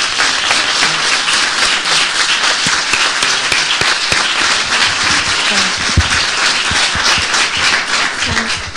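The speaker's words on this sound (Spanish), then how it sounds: "lo que os pediría es simplemente un aplauso muy grande para Enrique." A large audience at a presentation of a study on the evolution of the internet gives sustained, loud applause, thick overlapping claps with a few sharper individual hits, continuing unbroken throughout.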